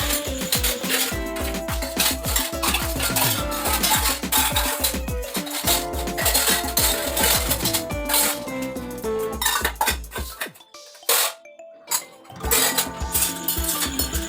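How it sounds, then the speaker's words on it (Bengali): Steel plates, small bowls and kadai pans clatter and clink almost continuously as they are stacked and tidied close by, with rapid metallic knocks and rattles, a brief lull near the end, then more clanking. "কিছু আরও কড়াই ছিল, ছোট ছোট জাম বাটি ছিল, সেগুলো নিয়ে এলাম, আর থালাগুলো নিয়ে আসি"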